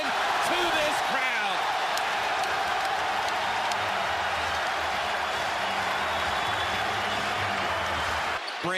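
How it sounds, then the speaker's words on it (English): A college basketball arena crowd roars loudly and continuously during an Auburn timeout in a game against Alabama, with a faint music tone underneath. "Timeout Auburn, and listen to this crowd."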